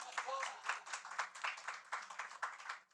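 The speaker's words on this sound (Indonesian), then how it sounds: "sekali lagi keras tepuk tangannya" Audience applause, a scattered ripple of clapping from a crowd at a lively public talk, fairly faint and uneven, with individual claps rising and falling over a few seconds.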